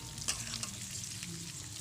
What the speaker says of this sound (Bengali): পেঁয়াজের সঙ্গে ভালো করে কষিয়ে নেব।